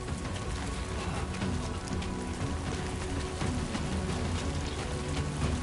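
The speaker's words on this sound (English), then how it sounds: "Okay, so the timefall is affecting now." Steady timefall rain in the video game Death Stranding 2 pours down as a dense, constant wash of drops hitting surfaces, with no pauses and no talking.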